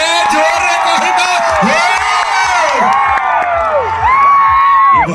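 Large crowd at a live concert performance during the Malyabanta Mahotsav festival in Kalimela, Malkangiri, cheering, whooping and shouting loudly and continuously, with applause mixed in.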